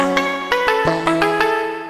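A bright synthesized vocal chop from a Serum preset plays a short rhythmic lead phrase, each clipped note starting sharply and decaying quickly, clear and upfront.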